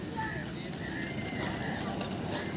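Horse hooves clip-clopping on a slippery surface strewn with grass, a steady patter of light steps beneath constant background noise and nearby talk, with faint traffic around.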